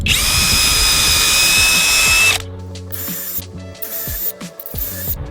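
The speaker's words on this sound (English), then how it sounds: "now we are going to take our drill" A power drill whines loudly and steadily for about two seconds, then cuts off, leaving quieter clicks and a faint hum.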